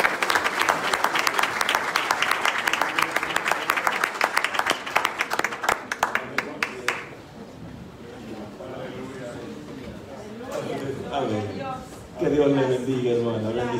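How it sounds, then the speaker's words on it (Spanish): A church congregation claps loudly for about seven seconds during a worship service, dense rhythmic applause that stops abruptly, followed by a voice speaking and singing alone. "Denle un aplauso fuerte al Señor."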